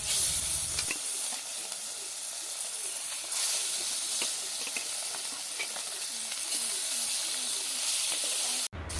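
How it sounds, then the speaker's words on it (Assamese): Magur catfish pieces being half-fried in hot oil in a kitchen pan give a steady, close hiss and crackle with small popping spatters throughout, no voices. "আকৌ এইখিনি মাছো সেনেকৈ আধা সিজাকৈ ভাজি ল'ম"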